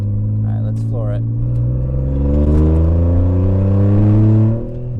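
A fire-damaged C5 Audi Allroad is floored at full throttle, its engine note climbing steadily in a smooth, continuous rise. The engine is heard from inside the car, with a brief voice near the start.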